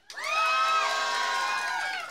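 A crowd at a poetry event cheering and whooping loudly, a sustained burst of high voices rising together and holding for about two seconds.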